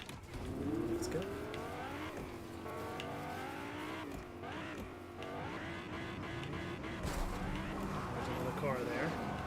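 Car engine driving in the Fortnite video game, a continuous rumbling motor that rises and falls as it moves, with scattered knocks and clatter, under steady game sounds and voices.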